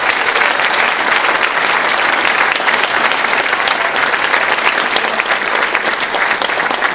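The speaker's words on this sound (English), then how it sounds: "so let's give all of them a round of applause" A large audience at a fashion show claps loudly and continuously for the runway models, a thick, even roar of applause that holds at full strength throughout.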